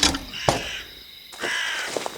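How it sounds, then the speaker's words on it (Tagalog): A crow-like bird gives harsh, eerie caws, two loud close calls followed by a longer rasping cry and a few shorter ones, heard alone with no talking. "Yun yung huni ng ibon na nandito kanina."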